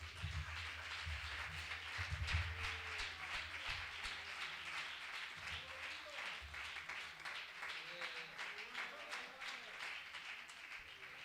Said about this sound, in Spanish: Pues dale un aplauso al Señor.